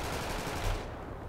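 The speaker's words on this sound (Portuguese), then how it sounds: "Os caras estão me atirando aqui" Gunfire in GTA RP, a dense, loud burst of rapid shots filling the whole moment with no pause.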